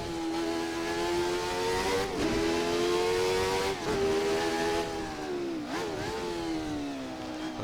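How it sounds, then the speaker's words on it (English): A Jordan 191 Formula One car howls at high revs near Les Combes at Spa, the engine note dropping in quick stepped blips as the driver double-clutches down from fifth to third, loud and continuous with no talk. "A little bit of double clutch action, skipping from 5th to 3rd"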